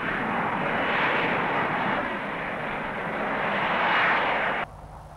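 A Harrier jump jet's engine gives a steady, loud, broad roar throughout, with a slight swell near the end before it drops off abruptly.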